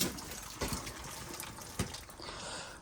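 Water spills from a circulator pump pipe during a B&G 100 series replacement, a soft continuous trickle and splash with a couple of brief gushing surges, faint and close.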